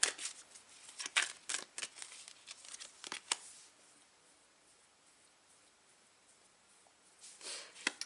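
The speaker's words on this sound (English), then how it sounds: "So I'm going to shuffle the oracle card for today" Oracle cards being shuffled by hand, a close, quiet run of crisp riffling snaps and flutters that stops midway, followed by a brief rustle near the end.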